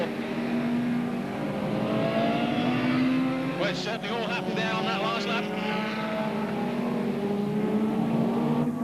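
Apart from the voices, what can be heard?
BriSCA F1 stock cars racing at Northampton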